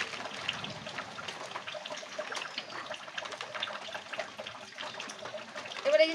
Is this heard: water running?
yes